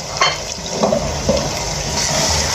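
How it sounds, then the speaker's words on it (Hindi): Mutton fries in a pan with cumin powder, red chili powder, turmeric and salt for a cauliflower and meat curry, a close, dense sizzling hiss with occasional stirring scrapes. "और अब हम अपने मटन को इस तरह से भून लेंगे।"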